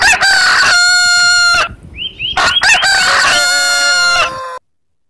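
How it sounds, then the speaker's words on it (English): A rooster crows loudly and close, a long drawn-out cock-a-doodle-doo followed by a few short clucks and then a second long crow that ends abruptly. "H for hen."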